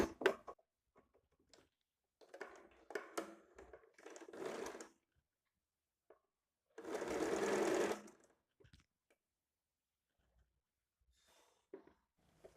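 A sewing machine stitches blouse fabric in short separate bursts, with one longer whirring run in the middle and quiet gaps between, close by and with no talking.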